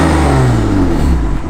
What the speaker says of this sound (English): this is revs with valves closed